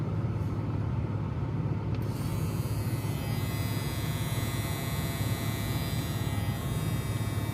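A hair clipper with a built-in flashlight runs at 9,000 RPM, giving off a constant close electric buzz and hum with a slight shift in tone early on.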